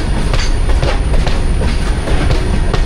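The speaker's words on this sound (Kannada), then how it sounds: "Indian railway material ತುಂಬ್ಕೊಂಡೈತಲ್ಲ ಹೊಂಟೈತಿ ದೂದ್ಸಾಗರ railway track" A loaded Indian Railways material train rolls past on the Dudhsagar track near Goa, its loud, continuous rumble close by, with wagon clatter and squealing wheels.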